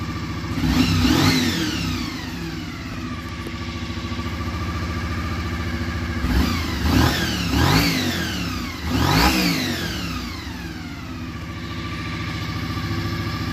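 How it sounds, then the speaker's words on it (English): Close, loud throttle blips from a stock 1988 Honda NC24 VFR400R, its gear-driven-cam 400cc engine: one rev early, then three quick rising-and-falling rises later, settling back to a steady whining idle between them. "NC24 VFR400R. Sounds like a little supercharger."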